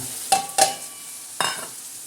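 Soaked dal tipped into hot tadka for dal kanda, a few quick scraping and clattering bursts over a thin sizzle, close and short, without voices.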